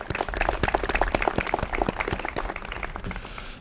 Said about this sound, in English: how about another round of applause for all our veterans in attendance today